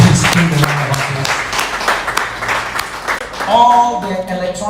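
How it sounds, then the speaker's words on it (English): Audience clapping at a lecture series event, a broad wash of applause that a voice talks over, with some musical tones entering near the end. "Please give the round of applause."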